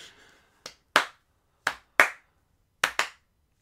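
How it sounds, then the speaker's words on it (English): A few slow, deliberate hand claps spaced unevenly in a quiet room, six sharp claps in pairs and singles, close and moderately loud with silence between. "Slow clap."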